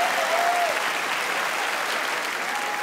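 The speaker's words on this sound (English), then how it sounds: "Round of applause for mum." Loud, steady applause from a television studio audience, dense and unbroken for the whole stretch.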